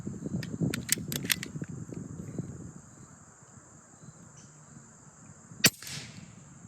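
An AEA HP SS air rifle fires a pellet at a field target outdoors. One sharp, loud crack stands out against a background of chirping insects and a few earlier faint clicks.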